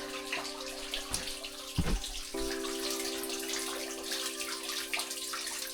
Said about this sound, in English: Got a little waterfall over there.